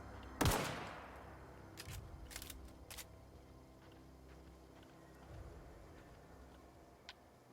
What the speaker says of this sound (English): I forgot that my pistol is electric now